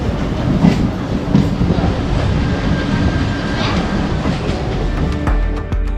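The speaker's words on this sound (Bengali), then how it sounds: "লেট করে ট্রেন ছাড়লো হাওড়া স্টেশন থেকে" Rumbling train departing Howrah station, in motion with rhythmic clatter of wheels on track, loud and close, with a faint tonal whine and squeaks toward the end.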